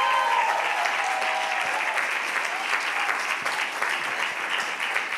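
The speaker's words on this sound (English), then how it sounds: "Clap your hands for Tamala" A church congregation claps steadily and loudly throughout, a dense wash of applause with no one speaking over it.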